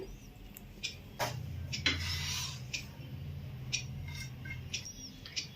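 A knife cuts through a soft homemade plum cake with a few close rasping, rubbing strokes and soft scrapes, separated by short pauses.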